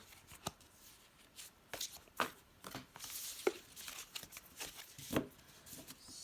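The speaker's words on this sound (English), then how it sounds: "the Tarot I'm also going to live shuffle for each pile" A tarot deck being shuffled by hand close up, quiet riffling and sliding bursts of cards in an irregular rhythm with brief pauses between, soft and alone.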